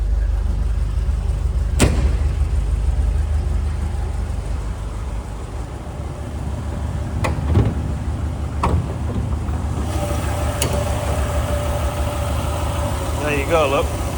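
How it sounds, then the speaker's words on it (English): A 1974 MG B GT V8 idles steadily under its raised bonnet, a low, even rumble running throughout with a few sharp clicks and taps, while someone talks over it. "V8 under there, ticking over as it should."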